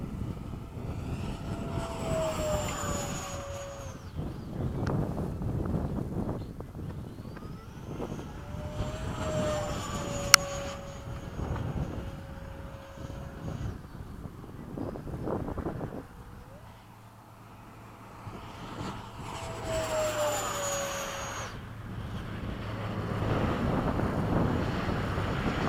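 A Hawk jet aircraft flies in formation and comes in to land, with a steady, moderately loud engine and wind roar broken by a few faint tonal sweeps and a brief click.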